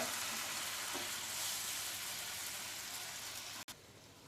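Steady, crackling sizzle of mango curry simmering in oil in a pan, continuous and close, with a brief break near the end.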